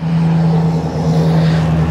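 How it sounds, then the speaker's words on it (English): A truck passes close by on a road, a loud, steady engine roar with a deep droning hum that holds for the whole stretch, with no voices over it. "I'll wait for this truck to pass by."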